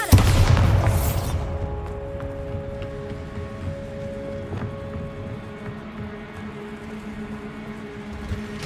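A Bombarda spell explodes in Hogwarts Legacy, one loud, close boom at the start that decays into a long, low rumbling tail with faint humming tones beneath.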